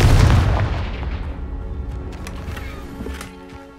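A Confringo spell in Hogwarts Legacy goes off as a loud, booming explosion that opens at full force and then rumbles and fades over a few seconds, with faint crackling debris.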